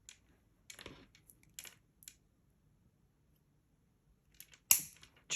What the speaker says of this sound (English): Trim the end with our wire cutters.